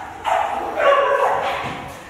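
Dogs at a kennel give a few short barks and yips, moderately close, with no talking over them.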